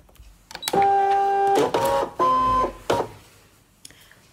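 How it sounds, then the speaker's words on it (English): ScanNCut cutting machine drawing in a 6-inch piece of Whisper White card, giving a few short whirring motor runs with tonal whines, clicks between them and a faint tap at the end, close and alone. "So I'm going to load that into the machine."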